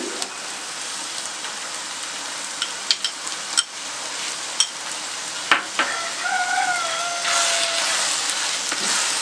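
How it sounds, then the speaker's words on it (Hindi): Kulfa saag with yogurt-mixed spices frying and stirring in a pan, a soft steady sizzle with scattered clicks of a spoon against the pot, fairly quiet and close, with no talking. "फुल फ्लेम पे अब आपने इसको दोबारा से भूनना है"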